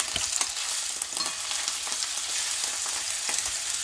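Steaks fry in a pan over fairly high heat, giving a dense, steady sizzle with crackling pops from start to finish and no talking.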